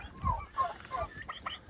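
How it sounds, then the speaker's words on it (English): Pasture-raised turkeys give a few soft, close clucks and gobbling calls in short bursts, faint against a quiet outdoor background. "Come on, turkeys."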